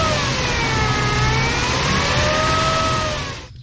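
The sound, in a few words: 2006 Toyota Tundra V6 4.0 engine revving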